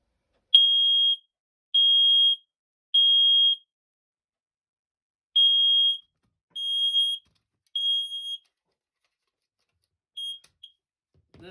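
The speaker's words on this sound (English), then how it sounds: "Takes forever to alarm, though." A Firex PB smoke alarm sounding in a room: a loud, piercing high-pitched beep repeated in three-pulse bursts, separated by silences, with a few shorter beeps near the end.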